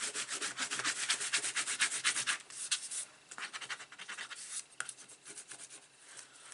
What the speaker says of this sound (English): give that a good burnish down